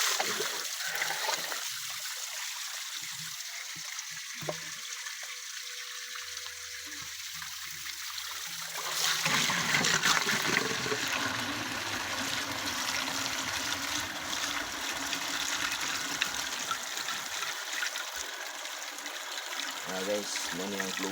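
Water from a tap pours into a gallon container with a hollow, gurgling trickle that swells into a louder, steady rushing flow partway through, with faint voices in the background.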